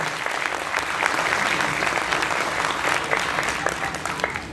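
An audience at a TÜRDEF Istanbul provincial presidency ceremony breaks into steady, dense applause that holds evenly throughout, with no voices standing out.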